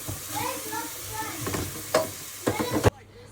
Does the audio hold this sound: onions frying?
yes